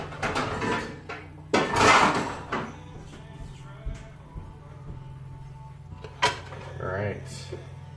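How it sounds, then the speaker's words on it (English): A pan is pulled out in a home kitchen, with clanking metal, a cupboard or drawer rattle and a loud clatter midway, then quieter knocks, all close by while someone talks. "let me grab a pan so we can get the stir fry going."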